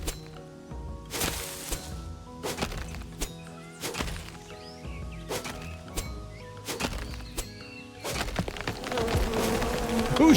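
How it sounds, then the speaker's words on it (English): Buzzing of bees swarming from a hive in the survival game Len's Island, a steady insect drone running throughout with repeated sharp whacks of an axe and game effects layered over it. "Holy fuck, that thing had bees."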